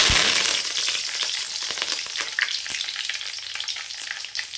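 Mustard seeds, urad dal and curry leaves fry loudly in hot oil for a mutton varuval, with a dense, close crackling sizzle and scattered sharp pops and spatters.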